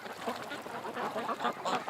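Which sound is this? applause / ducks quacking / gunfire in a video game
ducks quacking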